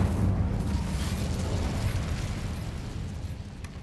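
An Incendio fire spell from the Hogwarts Legacy game erupts in a dense, rumbling blast that holds steady and then slowly fades over a few seconds, with no talk over it.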